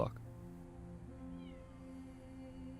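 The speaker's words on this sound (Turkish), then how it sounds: "Hareket eden her şeyi miyavlar." A cat in the video game Copycat lets out a drawn-out, tonal meow that holds steadily for a few seconds, with a voice faintly present underneath.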